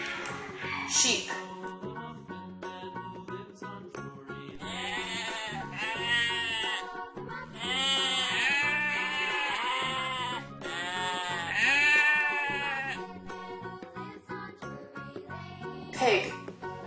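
Sheep bleat loudly and repeatedly in long, wavering calls, several overlapping cries close by with no talk.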